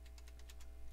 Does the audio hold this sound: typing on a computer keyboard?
yes